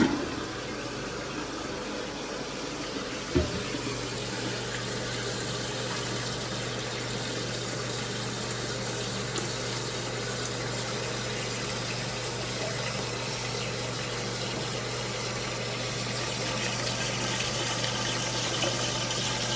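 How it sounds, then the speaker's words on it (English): A 2010 Sterling Windham toilet flushing at home, a sharp clunk of the handle followed by a steady, close rush and gurgle of water that continues evenly as the tank refills, with no voices. "Let's go ahead and flush it."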